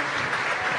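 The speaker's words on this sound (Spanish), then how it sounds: "Fuertes los aplausos para esta pequeña niña" A crowd applauds a young girl after she recites her poem at a public event, steady dense clapping that fills the whole moment.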